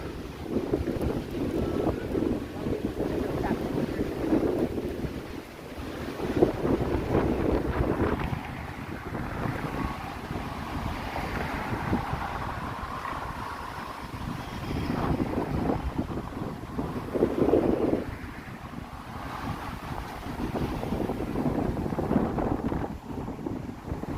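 Strong wind buffets the microphone on a downtown Toronto street, a loud, rough rumble that surges and eases in gusts across the whole stretch, with no voices.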